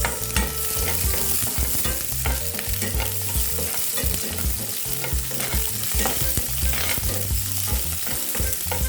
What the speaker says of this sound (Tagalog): brown na yung ating bawang, ilagay naman natin yung sibuyas